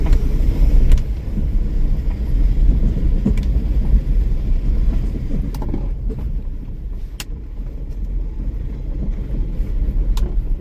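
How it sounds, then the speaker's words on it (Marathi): A car engine rumbles steadily at close range while driving uphill, a low continuous drone with road noise and a few faint clicks, no voices. "बघूया वरती घेऊन जाऊ आपण आपली गाडी"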